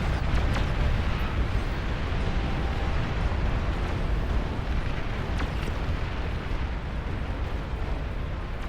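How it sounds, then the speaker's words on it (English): Continuous rumbling barrage of explosions from T3 units blowing up in a massive 100-player Beyond All Reason RTS battle, dense and loud throughout with no pauses, faint crackling bursts layered over a deep roar. "That air's just being nuked by T3 exploding"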